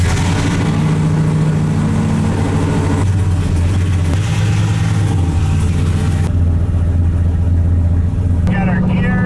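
A turbocharged LS-powered street truck accelerates hard, its engine note droning loud and close with rising and shifting tones through gear changes, under some talk.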